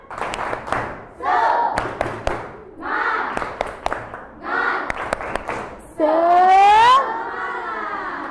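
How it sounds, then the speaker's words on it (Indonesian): A classroom of pupils performs the tepuk semangat rhythmic clapping chant, with bursts of chanted voices alternating with sharp group claps, ending in a loud drawn-out shout. "Kita tepuk semangat bareng-bareng ya."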